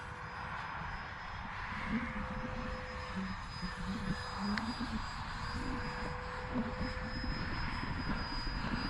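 An Easy Habu RC model jet trainer fitted with Easy Lights flies over the Avon Park field, its electric ducted-fan whine a faint, steady distant drone with a thin constant tone running throughout.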